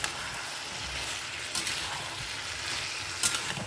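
Boiled potatoes and cauliflower frying in a tomato spice masala without onion or garlic, a soft continuous sizzle with a couple of brief stirring scrapes, close and alone.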